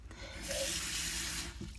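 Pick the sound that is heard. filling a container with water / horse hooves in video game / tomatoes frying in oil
filling a container with water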